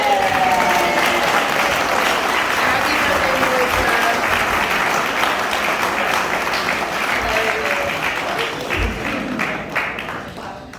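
Sustained applause from an audience at an evening show fills the room at full strength, then slowly thins toward the end, while one voice speaks briefly over the clapping.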